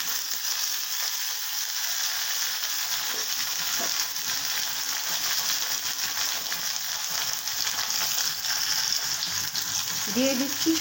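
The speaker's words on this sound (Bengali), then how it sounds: "এবার আমি দিয়ে দিচ্ছি টমেটোগুলো।" Chopped tomatoes fry with onions in a pan for chicken sukka, giving a constant close sizzle and crackle, with occasional stirring scrapes and a brief soft voice near the end.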